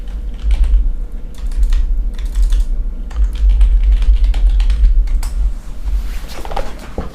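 Rapid, steady clatter of keys on a computer keyboard as a chat message is typed, close and fairly loud, with no voices.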